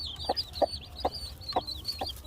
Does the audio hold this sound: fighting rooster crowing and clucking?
yes